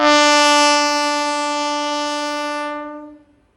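A slow-moving train fitted with a WP7 locomotive from Lallaguda sounds its horn in one long, loud, sustained blast that holds for nearly three seconds, then cuts off with a short fading tail.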